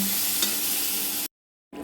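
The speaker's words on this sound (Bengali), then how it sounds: "এখানে কয়েক মিনিটের জন্য ভাজাভাজি করে নিয়ে সেদের জন্য জল দিয়ে দিব।" Snake gourd and stinging catfish sizzle loudly in a pan with a steady crackling hiss, broken by a sudden silence near the end before the sizzling resumes.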